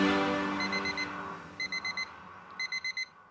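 An alarm clock goes off at seven in the morning, its shrill beeps arriving in three quick bursts of four evenly spaced tones after a fading musical note, clear and alone.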